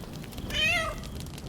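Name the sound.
cat meowing in the video game Baldur's Gate 3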